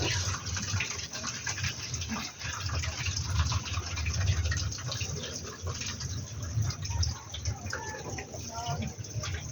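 Tap water gushes into a container at a beach campsite, a continuous splashing rush heard close, with voices talking over it and a dog barking now and then.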